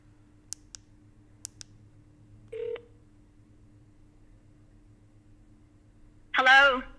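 A telephone call dialed on speakerphone: a few short clicks and keypad tones, then a faint ring-like burst and a voice answering at the end.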